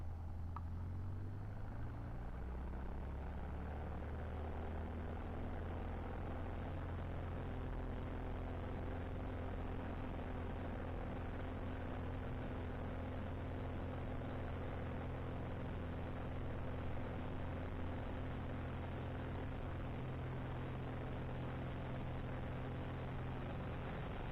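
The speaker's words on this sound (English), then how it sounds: "let me show you the takeoff first" A light aircraft, registration N747JS, takes off from the Livermore runway in California. Its propeller engine gives a loud, steady, close drone that holds at full power throughout, with no other sounds over it.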